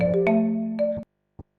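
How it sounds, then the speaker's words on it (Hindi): A phone rings with an incoming call from an unknown number: a loud, close electronic ringtone of sustained tonal notes for about a second, then a short isolated blip after a pause. "और ये अननोन नंबर से किसका कॉल आ रहा है?"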